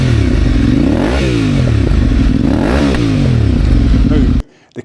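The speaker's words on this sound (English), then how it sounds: "There's a good noise off the bike, especially in the run down third and second gear as you're coming down the box." Aprilia Tuareg 660 adventure motorcycle fitted with an aftermarket exhaust pipe, its engine running loud and close with rising and falling revs, two swells of throttle as it changes down through third and second gear, then cutting off abruptly near the end.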